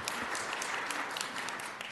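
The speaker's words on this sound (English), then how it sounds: "If you all could hold your applause just so we can get through" Sustained audience applause fills a public hearing on a Denver cat declaw ban, dense steady clapping from a roomful of people, fairly distant and uninterrupted.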